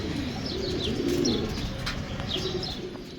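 Pigeons coo repeatedly in low, rolling phrases close by, with occasional higher chirps layered over steady background hum and no talking.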